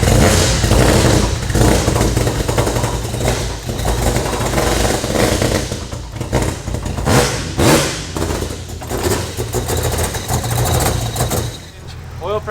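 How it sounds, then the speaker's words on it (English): A loud four-rotor rotary engine in a Supra, on its first start, runs steadily with a rough, rattling exhaust clatter, idling unevenly with occasional thumps. "It sounds like the exhaust is like rattling, like something's moving a ton in the car."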